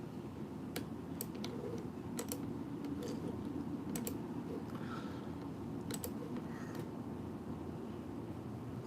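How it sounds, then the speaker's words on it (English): Keys on a computer keyboard clatter in a steady run of soft taps and occasional sharper clicks, close by, over a low room hum, with no voices. "I'm going to type that in."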